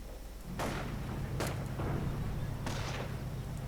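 Heavy anti-tank and sniper fire in a WWII strategy video game, three or four sharp booming shots spaced about a second apart, moderately loud over a low rumbling battlefield background.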